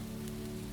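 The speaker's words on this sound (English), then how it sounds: "Rain was falling steadily now" Steady rain falls in a dense, continuous patter, an even wash of drops with no pauses.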